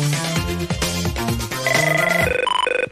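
A telephone rings on a live TV quiz show, a bright electronic trill rising out of the studio music, loud and close, with a rapid pulsing repeat at the end.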